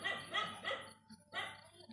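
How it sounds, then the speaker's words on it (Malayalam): A pet dog named Arjun barks at night at an unfamiliar person outside a house, a few sharp barks in quick succession, fairly faint and somewhat distant with quiet gaps between them. "ഇങ്ങനെ കുരച്ചുകൊണ്ട് നിൽക്കുന്നുണ്ട്."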